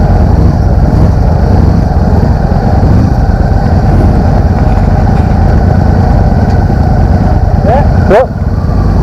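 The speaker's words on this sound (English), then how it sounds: "Yeah, man, this is a 2016 model Victory Gunner." Engine of a 2016 Victory Gunner motorcycle with a 1731cc V-twin, running in a steady, loud, continuous rumble close by, with a brief change near the end.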